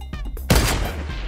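Gunfire in the video game Fortnite: a few quick, soft shots, then one louder, punchy blast whose ringing tail continues to the end.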